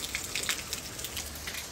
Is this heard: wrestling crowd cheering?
no